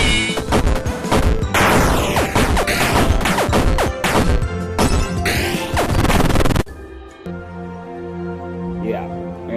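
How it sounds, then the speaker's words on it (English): Dense bursts of popping and booming blasts from the Jackal Bomb in the game FNaF World, loud overlapping crashes and thuds in rapid succession, then a quieter stretch with sparse tones. "They don't do the repeated, like, popping or booming sound. It just does pop, pop, pop, or like boom, boom."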